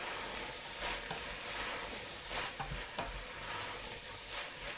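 Garlic and carrots are stirred into softening vegetables in a soup pot for tomato and lentil soup, a continuous soft scraping and shuffling with a few sharper clacks of the spoon against the pot.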